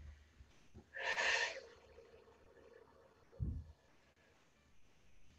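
A soft breath during a yoga class, drawn in with a brief airy rush near the start and then a quieter, lower exhale a couple of seconds later, close by in an otherwise quiet room.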